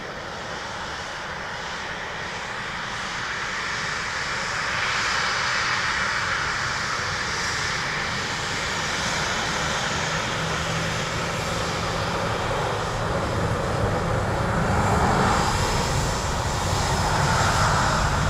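An SAS airliner from Stockholm at Dublin Airport, a sustained jet engine roar that grows gradually louder and stays broad and steady, heard from a distance with no voices over it.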